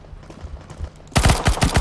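Rapid automatic rifle fire bursts loudly in a CS:GO match on the Mirage map, following quieter game ambience and scattered distant shots.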